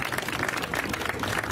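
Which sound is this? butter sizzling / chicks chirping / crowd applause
crowd applause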